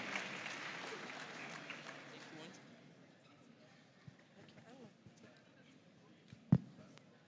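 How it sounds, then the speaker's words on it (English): Brief audience applause for a school at a school farm awards grand final, fading out after a few seconds, followed by quiet room sounds and a sharp thump. "A round of applause for Inyinehini Catholic Senior High School."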